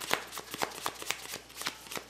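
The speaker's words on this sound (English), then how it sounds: "Alright, counting the cards." Vanguard trading cards being flicked through and counted, a quick run of crisp snapping card sounds at a steady brisk rhythm, close and fairly quiet with no talking.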